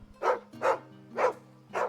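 A dog barks in the video game Final Fantasy XVI, four evenly spaced barks over a low steady game ambience, moderately close and fairly quiet.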